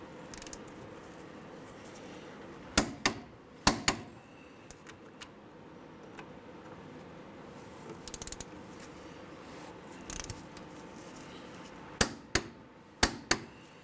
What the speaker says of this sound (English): So now we're going to torque our caliper bolts down to 79 foot-pounds.